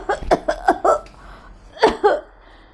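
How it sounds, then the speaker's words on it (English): A short burst of several coughs, then two more after a brief pause, close and clear with no other sounds. "Coughing."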